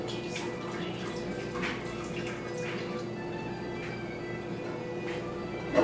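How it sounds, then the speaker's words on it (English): Whey draining from cheese curds as they are gently strained, a soft continuous trickle and patter of liquid with small drips, close by and steady. "separate the curds from the whey"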